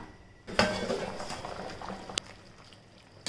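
A pot of water bubbles and simmers close by on the stove while making chicken and vegetable biryani, and a metallic clank from a lid or utensil sounds over it.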